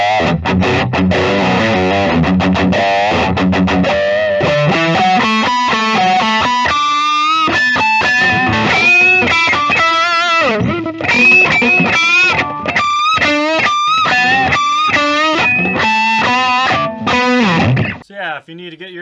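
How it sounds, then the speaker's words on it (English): A 2012 Gibson Les Paul electric guitar played through heavy distortion, with squealing pinch harmonics ringing above a steady stream of loud, sustained riffing that fills the whole passage and cuts off near the end. "So naturally, pinch harmonics are pretty easy too."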